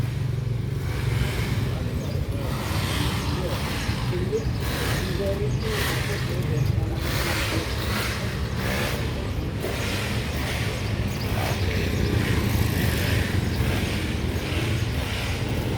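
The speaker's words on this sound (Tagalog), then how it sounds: "Puro motor na yung daanan." Motorcycles and other traffic rumble past on a busy road in Vientiane, Laos, a steady engine drone with passing swells throughout, with people talking nearby over it.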